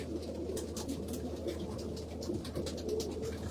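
A black Irish Syndicate racing pigeon coos in low, rolling bursts, repeated steadily over a constant background hum, close and moderately loud with no talking.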